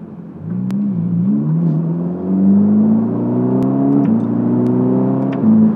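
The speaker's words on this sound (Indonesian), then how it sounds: "kita bisa pindah ke mode manual, turunin gigi" Ferrari Roma in manual mode after a downshift, its engine note climbing steadily in pitch as the car accelerates, heard from inside the cabin as a smooth continuous drone.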